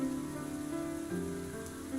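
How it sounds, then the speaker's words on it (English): Steady rain falls in a video game scene as a soft, continuous patter under a layered musical drone, with no voices heard. "we stand in the rain in silence for a moment"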